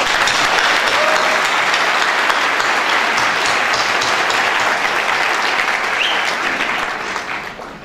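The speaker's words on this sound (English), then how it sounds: "Please give them a round of applause." An audience applauding at a celebration event, with dense, loud, sustained clapping from a large crowd that tapers off near the end.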